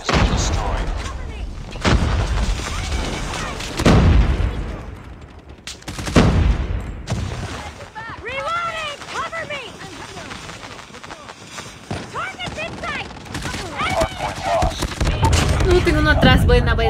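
Call of Duty Mobile gunfire while weapons are tested, loud repeated shots and rapid bursts spread across the whole stretch, with a voice speaking between and over the firing.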